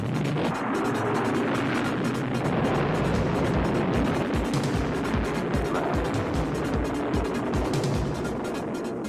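A rocket launch engine gives a dense, roaring rumble with crackling bursts, loud and continuous throughout with no break.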